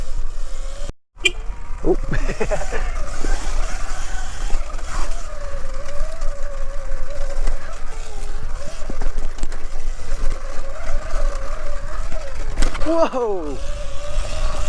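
Segway X160 electric dirt bike on single-track mountain bike trails, its steady motor whine rising and falling with speed under constant wind buffeting on the mic, with a brief startled exclamation from the rider.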